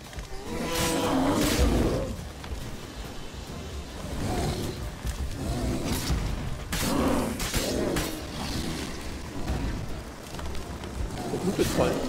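A bear in The Witcher 3 video game roars and growls in repeated deep, loud bursts amid combat noise, with someone talking over the action.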